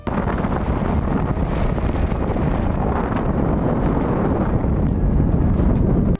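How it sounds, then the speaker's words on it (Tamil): Strong wind buffets the microphone on a hilltop at a Murugan temple at Yanai Malai, a steady broadband roar with gusty swells and no voices. "காத்து எப்படி அரிக்குது பாருங்க நீங்களே அந்த சத்தத்தை கொஞ்சம் கேளுங்களேன்"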